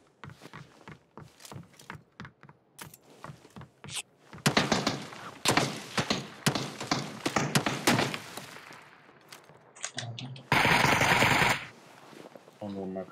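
Gunfire in the video game PUBG starts with scattered single shots and thuds, then builds into loud, rapid automatic bursts. Crisp reports repeat over several seconds, followed by a sustained loud burst near the end.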